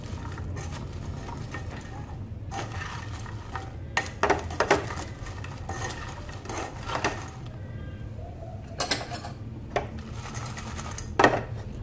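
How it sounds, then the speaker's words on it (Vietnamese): Butter popcorn being stirred in a pot, with irregular scraping, clinks and rattling bursts of a utensil against the metal, close and fairly loud over a low background hum. "Rồi bây giờ mình sẽ đảo đều lên."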